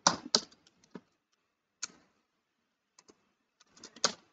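Python code being typed on a computer keyboard: scattered clusters of soft key clicks in short bursts separated by pauses, close and quiet with no talking.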